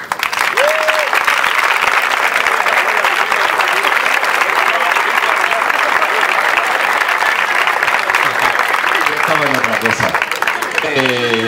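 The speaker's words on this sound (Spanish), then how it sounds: "Así que por favor, un aplauso para José Daniel" Loud, sustained applause from a large crowd at a poetry recital fills the whole stretch, with a few voices and whistles rising near the end.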